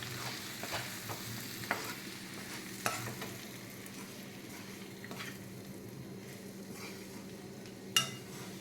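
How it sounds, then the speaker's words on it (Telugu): Ground spice powder of lentils, coconut and cumin being stirred into a cooking dish, soft frying sizzle under repeated spoon scrapes and occasional sharp clinks against the pot, fairly quiet and close, no speech. "మనం మిక్సీ చేసుకున్న పౌడర్ని వేసి బాగా కలుపుకోవాలి"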